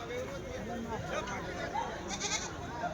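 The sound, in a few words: rams bleating at a livestock market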